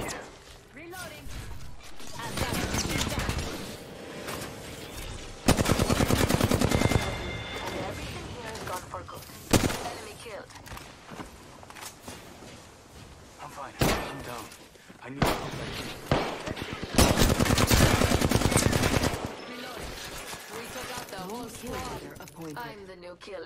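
Bursts of video game gunfire from a battle royale firefight on PC, with loud clusters of shots and impacts recurring across the stretch under steady talk from the player.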